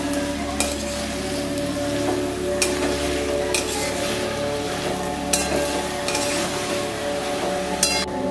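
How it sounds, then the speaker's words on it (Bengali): Coriander powder and spices being stir-fried in a pan, with a steady sizzle running throughout and a few sharp clinks of a spoon against the pan scattered across it. No one speaks. "এবার আমি মশলাটাকে ভালো করে কষিয়ে নেব।"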